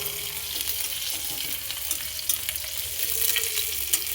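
Flat beans fry in hot oil in a wok with a bright, constant sizzle and intermittent stirring scrapes close by, with no talk.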